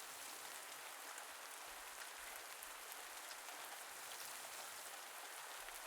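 Steady rain falls in the farming video game Pumpkin Days, a soft, even hiss of drops on surfaces that continues without a break and stays fairly quiet.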